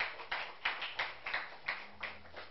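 A church congregation claps hands loudly during a sermon, with about eight sharp, even claps in a steady rhythm and no talking over them.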